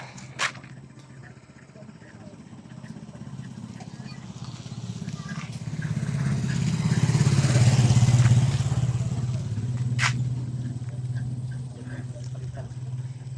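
Motorcycles passing along a road, a low engine drone that swells toward the middle and then eases off, with a few sharp clicks and knocks on top.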